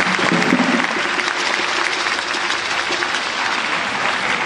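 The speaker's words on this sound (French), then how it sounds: "Je souhaite qu'on l'applaudisse très fort." Loud, dense applause from a large audience at an official ceremony launching a commemorative year, a continuous wash of clapping at steady strength throughout.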